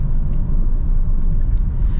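A Skoda Octavia 1.6 TDI DSG engine rumbles steadily and loudly from inside while accelerating to overtake, a low continuous drone with road noise and no talking.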